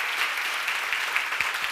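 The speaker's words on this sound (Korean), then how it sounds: "진짜 믿는 사람만 박수 쳐봐." Church seminar congregation clapping together in a steady, dense burst of applause, bright and continuous throughout the short stretch with no talking over it.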